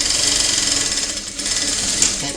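A domestic sewing machine runs steadily for a couple of seconds, stitching the double-sided skirt of a rag doll, a continuous close whirring hum with a fine mechanical chatter and no talk.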